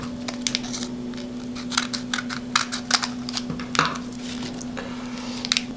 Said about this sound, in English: So let's quickly open this and see the contents inside.